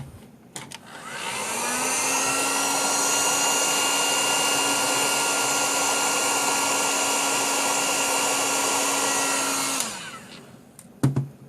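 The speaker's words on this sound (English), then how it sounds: "take your favorite heat shrink gun and shrink it down" A heat shrink gun blows steadily over heat shrink tubing on a wire connection while a haptic vibration module is fitted to a FrSky Taranis X9D transmitter. The loud, even whoosh starts after a second, runs for about nine seconds, then cuts off.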